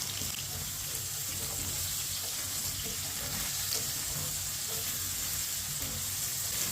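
Chopped onions with whole cumin sizzle in a pan, a steady soft hiss and crackle of frying heard alone throughout.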